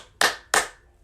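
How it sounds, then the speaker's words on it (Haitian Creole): Two sharp, close hand claps about a third of a second apart, crisp and loud against a quiet background, applauding the youth. "Bat bravo pour la jeunesse."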